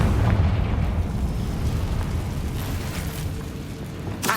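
A Confringo fire spell explodes in Hogwarts Legacy: a loud, rumbling blast with a heavy low-end boom that decays into crackling debris, ending in a sharp burst.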